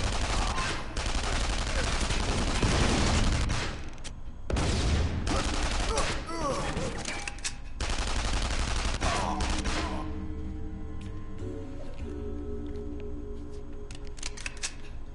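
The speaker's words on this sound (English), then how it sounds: "I think we just go in and machine gun everyone to death." Machine gun fire in the video game CounterSpy: dense, loud, sustained bursts of rapid shots fill the first ten seconds with brief gaps, then taper into quieter game ambience and tones.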